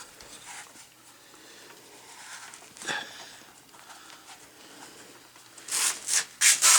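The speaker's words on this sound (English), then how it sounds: "So I'm just going to go over it, scuff it all up" Scuffing and rubbing over the surface of a white-tailed deer mount form before hide paste goes on, a soft continuous abrasive rasp with a sharper scrape near the middle and louder strokes toward the end.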